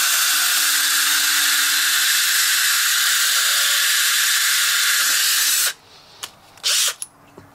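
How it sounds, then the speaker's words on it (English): A power drill whirs steadily and loudly up close for about five seconds, drilling a relief hole in a DIY solar junction box, then cuts off, followed by a few short clicks and knocks. "Drill a little relief out there."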